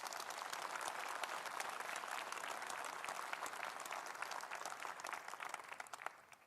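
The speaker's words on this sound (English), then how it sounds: "Let's give them a round of applause for their contributions." A Conservative Party Conference audience in Manchester applauds in a dense, sustained wave of clapping that continues steadily before tapering slightly at the end.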